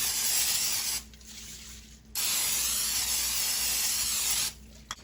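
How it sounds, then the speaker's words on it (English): Two long bursts of cooking spray hiss loudly and close onto a pan, separated by a short pause, with a third burst starting near the end. "I'm gonna spray this pan with cooking spray"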